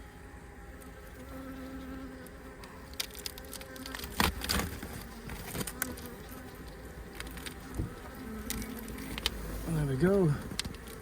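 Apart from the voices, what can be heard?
honey bees swarming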